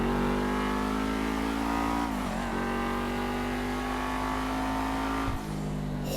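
A Dewbauchee Seven-70 sports car in GTA Online holds a loud, sustained engine roar, with a brief dip and shift in pitch partway through before it keeps droning on steadily.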